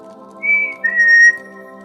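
A person whistles softly and sweetly in imitation of a bird's love note: two short gliding high tones over a quiet background of soft music.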